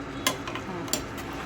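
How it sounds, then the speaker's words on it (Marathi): Cooked chicken for chicken biryani shifted into a second kadhai: two sharp metal scrapes of a ladle against the pan stand out over a low steady background, with a few fainter clinks between them. "ते आपण दुसऱ्या कढईमध्ये काढून घेणार आहे."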